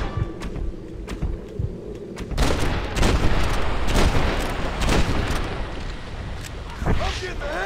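Gunfire from the western video game Red Dead Redemption: a string of sharp, loud shots and booming reports in quick succession, with someone talking over the shooting.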